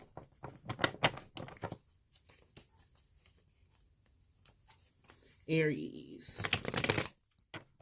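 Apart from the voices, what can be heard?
shuffling tarot cards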